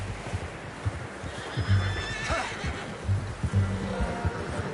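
A horse in the video game Red Dead Redemption whinnies and neighs several times over soft clip-clopping hooves, with a low hum running underneath.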